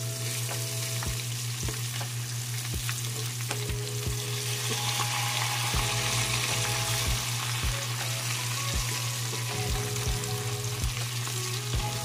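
Fish pan-frying in shallow oil for a crispy fried fish, a steady close sizzle and crackle with intermittent low thumps and scraping of a utensil in the pan, no voices.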